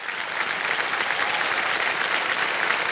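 A studio audience on a TV quiz show, KBC, applauds loudly and steadily, a dense, close wash of clapping that holds for the full stretch.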